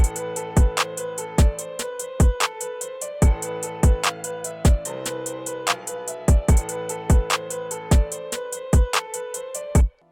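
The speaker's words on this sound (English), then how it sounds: "I put down some drums, sounds like this" A Southside-style trap drum beat loops with punchy kicks, snappy snares and rapid hi-hats in a steady pattern over a melodic backing, playing without talk before cutting off at the end.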